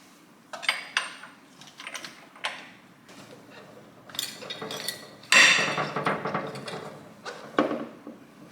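Wrench work loosening the tight front pulley bolt on a Ferrari during a major service, a run of scattered metallic clanks, clinks and ratcheting knocks, one louder burst midway, heard close in a quiet garage.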